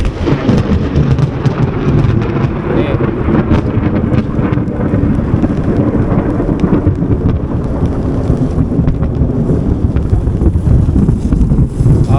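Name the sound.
thunder during a rainstorm by a river and rice field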